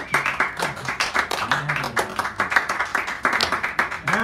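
Audience clapping at a San Francisco café poetry hour, a steady run of dense, close hand claps lasting several seconds at moderate loudness, with faint voices mixed in.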